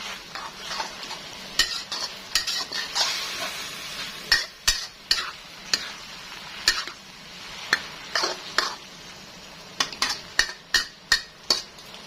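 Minced pork and holy basil stir-fried in a pan, a steady sizzle broken by a series of sharp metallic scrapes and taps of a spatula against the pan, coming in quick rhythmic clusters.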